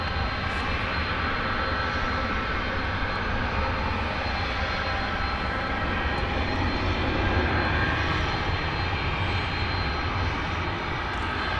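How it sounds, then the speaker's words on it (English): An Airbus A300 jet taxis toward the listener at night at Dallas/Fort Worth Airport, its steady, loud engine roar filling the whole stretch with broadband rumble and hiss and no voices over it. "Coming towards us now is the A300."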